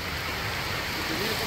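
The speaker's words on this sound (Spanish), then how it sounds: "Es que está lloviendo fuerte" Steady heavy rain pouring down, a dense continuous hiss of water with faint voices underneath.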